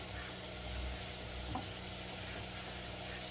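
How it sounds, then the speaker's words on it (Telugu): Fenugreek and mustard seeds fry in oil in a pan while making a broad beans pickle, giving a steady close sizzle with faint crackle throughout, no talking. "గోల్డెన్ కలర్ వచ్చినాయి మెంతులు, చిటచిటలాడుతున్నాయి ఆవాలు."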